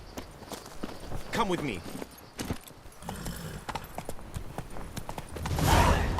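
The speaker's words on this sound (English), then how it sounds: "Roach could use some wind in her mane. Let's go for a ride." Roach, the horse in The Witcher 3, clopping along in steady hoofbeats at close range, with a voice speaking briefly over the rhythm and a rising rush of movement at the end.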